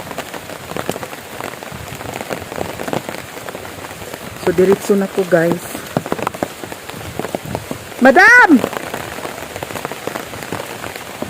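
Steady rain pours on a surface throughout, a broad dense hiss under frequent close voices talking, with brief louder bursts partway through.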